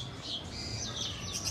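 Faint bird calls at a zoo near a Polish chicken enclosure: a few light, thin chirps and tweets over a soft background hum.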